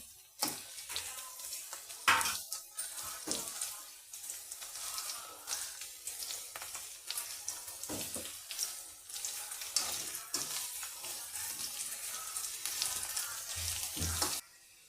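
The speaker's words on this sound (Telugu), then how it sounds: "కొంచెం ఆయిల్లో మగ్గాలి క్యారెట్ ఇది." Carrot cooking in oil in a pan: continuous close sizzling and crackle, with intermittent scrapes and clacks of stirring throughout.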